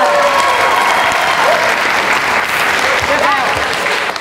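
A studio audience at a Vietnamese TV talk show bursts into loud, dense applause that holds steady throughout, close and full, with a voice briefly audible over it.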